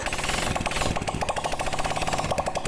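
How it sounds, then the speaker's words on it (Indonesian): Yamaha Vega ZR motorcycle engine running after a piston replacement, a fast steady mechanical chatter, close and loud, with no talking. "Kemudian kita coba hidupkan sepeda motornya untuk mengecek apakah olinya naik."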